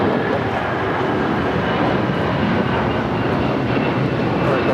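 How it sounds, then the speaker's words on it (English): A United Airlines Boeing 757 jet takes off from runway 25 right at LAX, a loud, steady broadband engine roar that fills the whole stretch without letup. "United 757 taking off 25 right"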